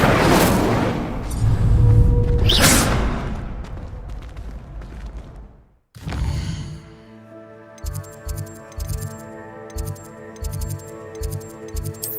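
A fire spell cast in the game Hogwarts Legacy bursts out as a loud whooshing roar with a deep boom, fading away before a break; afterward tonal game music or chimes play in rhythmic pulses.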